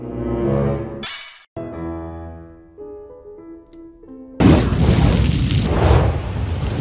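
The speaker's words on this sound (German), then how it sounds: "Kerze plus Kerze gleich Explosion." A loud, broadband explosion effect bursts in near the end and sustains as a dense roar, following a stretch of quieter tonal, musical sounds.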